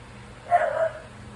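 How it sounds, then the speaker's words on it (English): A single short dog bark or yip, fairly quiet and a little distant, over faint background noise. "why are you barking?"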